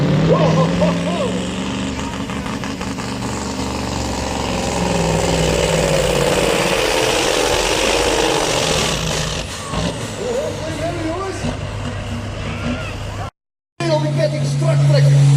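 A heavily modified Scania truck roars at a truck pulling event, its engine loud and sustained with a deep drone and rising strain, mixed with crowd noise and a commentator talking over it, briefly cut out near the end.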